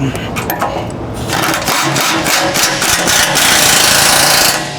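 A pneumatic impact wrench with a shallow 11/16 socket, held at an angle, tightens the bolts of a Pyro front bumper on a JK Wrangler, a loud, sustained close-up rattling hammer with brief pulses early on before a steady run.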